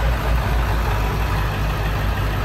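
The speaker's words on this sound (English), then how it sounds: "this truck has modified injectors, so it's going to idle probably quirky, so you might hear that" A diesel truck with modified injectors idles close by with a heavy, uneven low rumble and irregular thumps, steady and loud with no talking.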